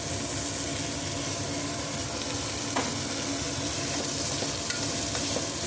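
Tomatoes fry in a pan for capsicum curry, giving a steady, even sizzle that runs the whole way through, with a few faint stirring scrapes and clicks. No one speaks.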